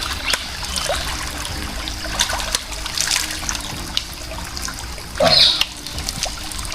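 Water trickles and splashes softly in a steady flow of a forest stream, with a brief louder splash near the end and no voices.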